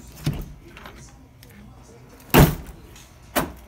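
A 2003-2007 Chevy Silverado power door lock actuator fitted with an aftermarket alarm clunks sharply twice, about a second apart, with a fainter click earlier; close and loud over a quiet background.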